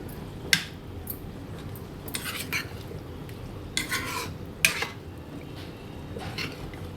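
Butter chicken is served out of the pan with a spoon, giving sharp clinks and scraping strokes at irregular intervals over a low steady background. Nobody speaks.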